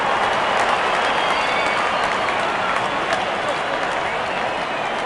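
A cricket video game crowd cheers after a six, giving a broad, steady roar of noise from the stands that holds at the same level throughout with no pauses.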